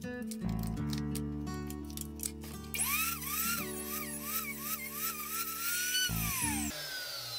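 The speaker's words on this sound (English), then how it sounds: "I want to make sure that the point is ground all the way out to the edge of the drill bit." A grinder whines as a drill bit is pressed against it, with rhythmic high scraping pulses riding over a steady motor hum, close and continuous.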